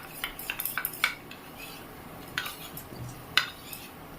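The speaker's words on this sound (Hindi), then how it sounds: "अच्छे से इसे मिक्स करना है" A spoon stirring thickening milk for homemade ice cream, giving a run of close metallic clinks and scrapes against the pot, then sparser taps over a low steady background hiss.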